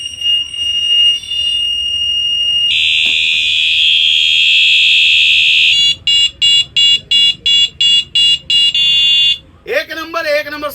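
An electric bicycle horn with a built-in light, sold for 199 rupees, blares a loud, piercing continuous electronic tone, then switches to rapid pulsing beeps, with someone speaking briefly at the end.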